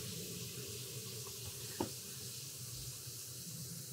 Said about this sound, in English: Now what I'm gonna do is I'm gonna turn on my water